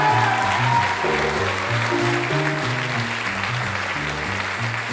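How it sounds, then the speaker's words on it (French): Audience applause fills a book prize awards ceremony, a broad steady wash of clapping mixed with loud stage music playing underneath throughout. "Un tonnerre d'applaudissements."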